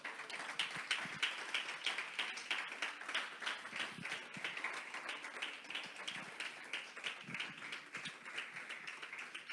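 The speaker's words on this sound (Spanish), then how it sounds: "Denle un aplauso al Señor." Congregation applauding in church during a Sunday service, a steady spread of many hands clapping through the whole stretch at moderate, slightly distant volume with no talk over it.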